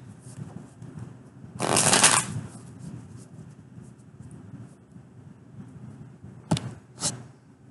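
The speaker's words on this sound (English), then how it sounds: "Okay, 1 shuffle and we're good." Tarot cards being shuffled once, a brief papery riffle near the microphone followed by a couple of quick card taps, in a quiet room with a light background hiss.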